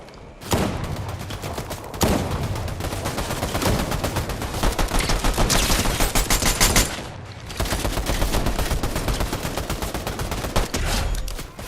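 Fortnite gunfire rattles in long rapid bursts, loud and close, broken by two short pauses, with no talking over it.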